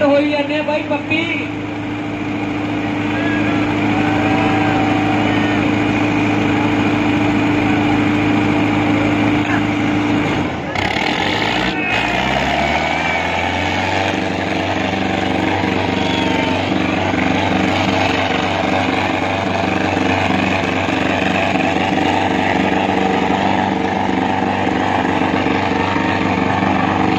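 Two powerful tractors strain against each other in a tractor tug-of-war contest, their engines droning loud and steady for nearly half a minute, with a brief dip and then a deeper, heavier labouring note.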